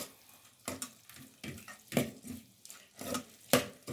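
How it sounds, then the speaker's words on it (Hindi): Water poured into a pot of chicken frying for a Mongre chicken curry, heard as several uneven splashing, hissing bursts with quieter gaps between, close and with no talk. "और अब मैं इसमें ये थोड़ा सा पानी डाल के"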